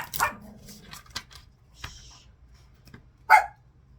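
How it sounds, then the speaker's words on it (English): In a quiet room, a dog barks once sharply near the end, reacting to card shuffling, after a few softer scattered noises and a faint whimper-like tone. "My dog barks at shuffling now."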